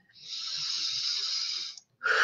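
A long, steady airy inhale lasting over a second, fairly close and clean, followed after a brief pause by the start of a breathy exhale.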